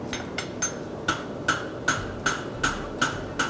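A hammer rings against hot steel on an anvil horn while a draft horseshoe is forged, striking about eight times in a steady, even rhythm, close and clear, with no talk.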